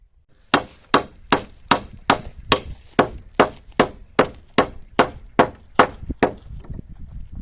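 Nails are driven into wood while building a dog house outdoors, with about fifteen sharp, evenly spaced hammer blows landing roughly every half second, close and loud with no talking.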